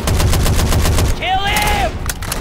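Rapid video game gunfire rattles in dense bursts for about a second, followed by a whooshing projectile or ability sound and more shots, all loud and close.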